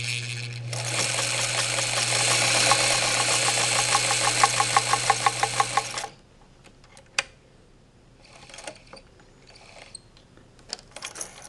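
Singer Model 237 sewing machine stitching with its tension slightly off: a loud, steady mechanical whir with rapid rhythmic needle clatter for about six seconds, then stopping, followed by scattered faint clicks and handling noises.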